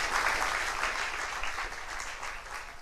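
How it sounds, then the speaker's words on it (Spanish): Brief congregational applause during a church service, a soft, steady wash of clapping from the crowd that stays even and fairly distant throughout. "Démosle un aplauso al Señor."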